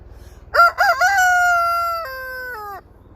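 A blind chicken, a rooster, crows once, loud and close, a full cock-a-doodle-doo lasting about two seconds with a rising start and a long held, falling tail, set against a soft low rumble.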